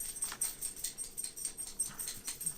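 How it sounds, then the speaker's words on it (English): A dog scratches itself indoors, its collar tags jingling in quick, light, rhythmic bursts, faint and close, with no talking. "My dog's in here scratching himself, jingling around."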